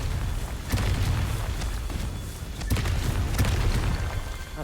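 In Hogwarts Legacy, a Confringo spell erupts in a loud, booming fiery blast, with several sharp bursting pops scattered through a dense rumbling roar.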